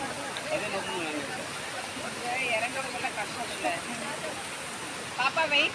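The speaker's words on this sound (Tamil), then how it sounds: "அங்கே ஆற்றுல தண்ணி போகிற சவுண்டு நல்லா கேட்டுட்ருக்கு" A river flows nearby in a steady, broad rush of water, and several people talk over it while walking down to the bank on a guided outing.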